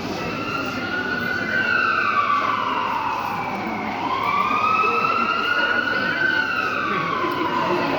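An ambulance siren wails continuously in a loud, rising and falling two-tone sweep that fills the whole stretch, with no voices over it.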